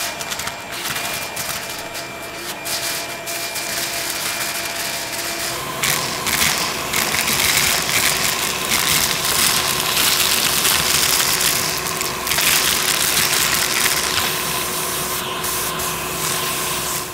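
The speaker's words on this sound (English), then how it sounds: "the best way to do that is to use a shop vac, which effortlessly sucks up the broken glass so you don't have to handle it by hand" A shop vac sucks up broken glass from a car's rear deck during a rear windshield replacement: a loud, continuous roaring whoosh with gritty rattling and crunching that shifts as the nozzle moves.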